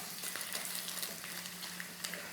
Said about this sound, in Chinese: 然后我们就先炒一炒不要太大火，先炒一炒